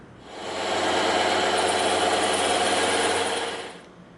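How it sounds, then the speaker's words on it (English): A bandsaw cutting a prop pistol part square, a steady buzzing whine that starts abruptly, holds evenly for about three seconds, then stops, heard close with no talking. "Now we're going to go to the bandsaw, and we're going to clean up in here so it's perfectly square"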